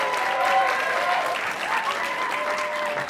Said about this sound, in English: So 1, 2, 3, round of applause